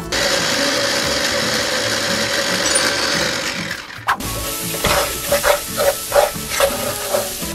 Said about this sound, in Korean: 불려놓은 쌀을 불 약불로 켜주고 참기름이나 들기름 살짝 쿵 넣어주고 한번 볶아주세요